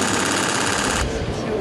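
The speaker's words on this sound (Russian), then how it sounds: "Жалко, что это звук всего лишь фотоаппарата" A rapid, rattling burst of mechanical clicks fires continuously like machine-gun chatter, loud and close, a fast camera shutter sequence.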